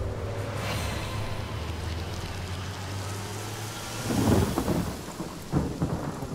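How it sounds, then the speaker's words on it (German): A rain spell cast in Divinity Original Sin brings steady hissing rainfall with deep rolling thunder. A heavier crash of thunder and splashing rain arrives partway through, and no one talks. "Regen auf das Ding raufzuzaubern hat nichts gebracht"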